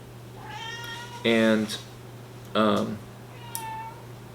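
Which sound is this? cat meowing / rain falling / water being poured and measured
cat meowing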